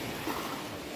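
Fast, high-flowing river water rushes steadily in a loud, continuous broadband wash with no break or voices.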